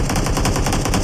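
Rapid automatic gunfire in an online multiplayer shooter game, a loud, dense burst of repeated shots with no pause throughout, close and alone.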